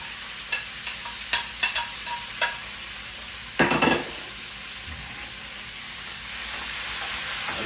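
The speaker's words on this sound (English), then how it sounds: "And now you just want to stir everything together" Chicken and vegetables fry together in a pan. A run of sharp utensil taps and scrapes comes first, then a louder stirring scrape, then a settling sizzle that swells toward the end. No voices are heard.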